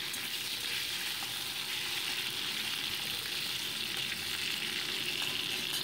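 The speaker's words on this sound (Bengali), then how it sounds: "মোটামুটি এটাকে 2 মিনিটস আমি হালকা ভেজে নিচ্ছি।" Potato pieces and cumin lightly frying in oil in a wok, a continuous close sizzle with faint stirring clicks, even in loudness from start to finish, without speech.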